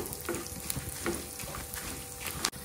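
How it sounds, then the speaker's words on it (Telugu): Peanuts frying in oil with cumin and unpeeled garlic for gongura chutney, a soft continuous sizzle with a few stirring scrapes and a sharp clink near the end. "ఇప్పుడు కొంచెం ఫ్రై అయినాయి పల్లీలు, ఇంకా కొంచెం ఫ్రై అయినాక దించుదాము."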